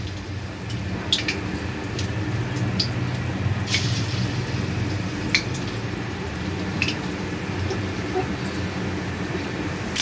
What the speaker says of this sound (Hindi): ये हमारी जो है हनी ड्रम स्टिक्स ये फ्राई हो रही हैं।